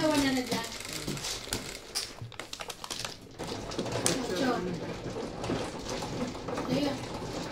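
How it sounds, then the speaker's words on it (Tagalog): A pigeon coos intermittently nearby amid the clack and rattle of mahjong tiles being shuffled and placed, with people talking over it throughout. "Yan, may ibon yan."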